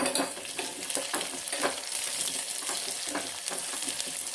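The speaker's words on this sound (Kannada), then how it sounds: "ಈರುಳ್ಳಿ ಮತ್ತು ಬೆಳ್ಳುಳ್ಳಿ ಚೆನ್ನಾಗಿ ಸ್ವಲ್ಪ ಫ್ರೈ ಆಗಲಿ." Onion and garlic frying in a pan for a fenugreek greens and lentil dish, a steady crackling sizzle with light stirring scrapes throughout, close and fairly loud, no talking.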